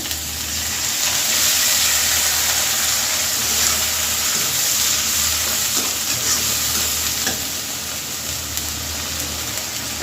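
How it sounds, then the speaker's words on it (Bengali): Loud, continuous sizzling as a little water hits a hot pan of frying onions and ginger-garlic paste, with a hissing, steamy quality and faint stirring sounds, close up and without talk. "সেই সাথে একটু পানিও দেব"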